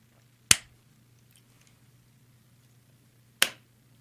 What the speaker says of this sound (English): So just give me a clap.